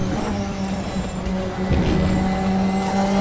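Turbocharged Radical race car engine in the RaceRoom racing simulator during a multiclass race at the Red Bull Ring, a loud, steady droning roar that holds throughout, with a brief rougher surge midway.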